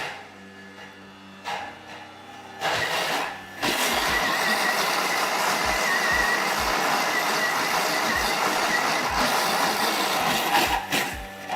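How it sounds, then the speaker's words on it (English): A Thermomix blender makes a loud, steady mechanical whir that fills most of the clip after a short quieter start, with sharp low knocks recurring beneath the grinding roar. "So you're blitzing that up in a Thermomix"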